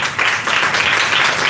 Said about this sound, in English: So please give a round of applause to every single person.